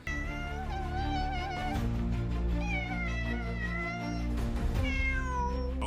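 A cat meows loudly and insistently at close range, a run of drawn-out, wavering cries with short breaks in between, heard alone with no talk.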